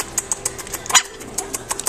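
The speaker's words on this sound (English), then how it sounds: "Are you barking at me?" A puppy gives one brief, sharp yip amid quiet ticking and scratching noises close by, with no talking.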